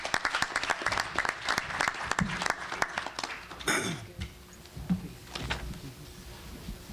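Audience applause and some cheering at the opening plenary session of a conference in Memphis, Tennessee. The claps are dense and moderately loud, then thin out into scattered claps and room noise toward the end.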